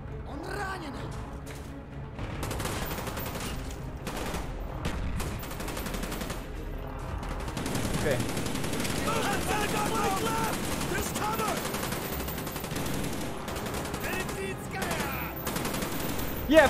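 Dense automatic gunfire from Call of Duty: Black Ops, with rapid bursts and scattered shots rattling on nearly continuously, loud and close, over a busy in-game battle mix with voices underneath.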